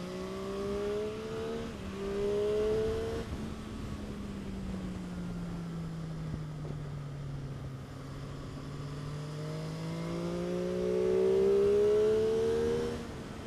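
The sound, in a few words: Ducati motorcycle racing into a corner on track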